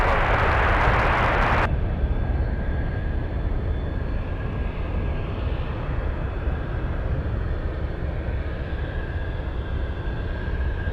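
A heavy jet roars steadily and loud throughout, a broad, continuous rumble close by. The aircraft is Cathay 3298 Heavy, landing on runway 7 right at Anchorage.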